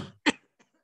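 A single short cough, close and fairly loud, after a brief trailing breath, then near silence with a faint murmur.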